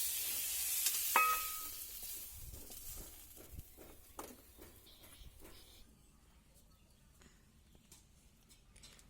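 Eggplant fries in a pan and is lifted out, giving a faint, soft sizzle with light clinks and scrapes of a utensil that thin out toward the end.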